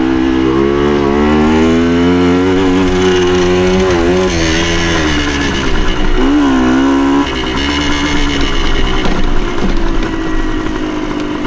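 A 1975 Suzuki TS125 Duster two-stroke trail bike engine is ridden on trails. Its loud, buzzy note stays close and continuous, rising and falling in pitch as the rider works the throttle, and no voices can be heard.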